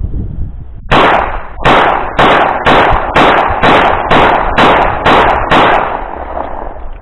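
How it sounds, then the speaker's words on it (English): A Glock 17 Gen 4 9mm pistol fires about ten sharp, loud, close shots at a steady pace, roughly one every two-thirds of a second, with short ringing decays between them and no talking. "This is a Glock 17 Gen 4 9mm."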